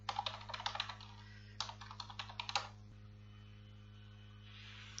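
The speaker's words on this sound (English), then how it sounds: "Let me enter the default username and let me enter the password." Computer keyboard keys clatter in two quick bursts of close typing as a username and password are entered, followed by quiet with a steady mains hum underneath throughout.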